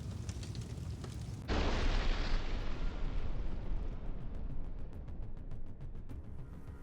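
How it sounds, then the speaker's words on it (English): A Ukrainian armed forces ammunition depot explodes with a sudden, massive blast. The roar then rumbles and slowly fades over several seconds, heard from a distance. "The epic explosion of the Ukrainian armed forces' ammunition depot."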